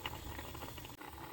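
Moong dal cooked with ridge gourd bubbles in a pot on the stove, a soft, continuous simmering hiss with faint popping, quiet and with no talk.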